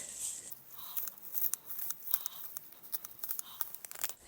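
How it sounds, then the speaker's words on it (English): Lobelia plant roots are pulled apart and cut, producing quiet, close crinkling, tearing and snipping sounds in irregular bursts, with no talking. "I'm going to try to separate this out a little bit and then cut this bottom part."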